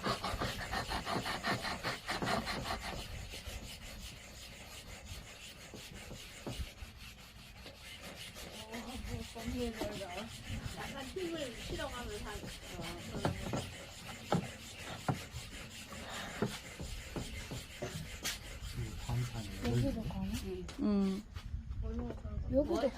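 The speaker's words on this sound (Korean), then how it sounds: "돌가루가 나온다는 거는 잘 갈리고 있다는 거겠지?" Steady gritty rubbing and rasping of a stone knife being ground on a whetstone, repeated back-and-forth strokes close by, with people talking throughout.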